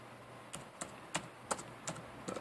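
Typing on a computer keyboard: about seven separate keystrokes tapped at an uneven pace, close but quiet, with a faint background hum and no speech.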